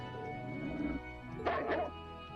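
A dog barks in the video game Trails of Cold Steel, giving a soft yelp followed by a brief burst of bark, quiet and set over a steady game music bed.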